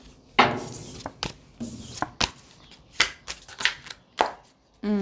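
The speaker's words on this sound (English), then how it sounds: "Let's shuffle for it." Tarot cards shuffled by hand in a series of close, crisp riffling bursts and taps with brief pauses between them, followed by a short voice at the end.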